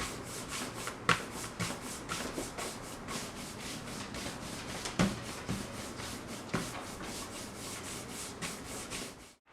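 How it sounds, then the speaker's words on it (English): A horsehair brush is worked over leather for a custom tote in steady, repeated strokes, each a soft bristly swish close to the mic, with a few slightly sharper scuffs along the way. "Using a horsehair brush makes you look more official."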